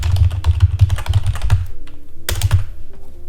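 Typing on a computer keyboard, a quick run of close, crisp key clicks that pauses briefly and then resumes in a short second burst.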